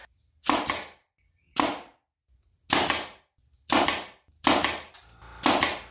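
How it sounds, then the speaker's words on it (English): A brad nailer fires nails into a wooden base for a scroll-saw fish project, giving six sharp, loud, evenly spaced pops with short gaps of silence between them. "I can shoot a brad nail in the bottom"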